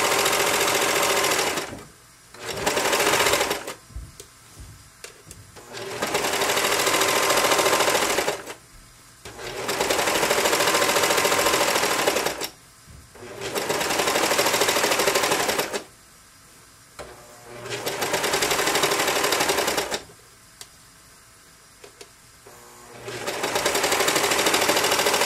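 A sewing machine stitches scrub cap fabric in repeated loud bursts of rapid mechanical whirring, each a few seconds long, separated by short pauses while the fabric is turned, heard close by.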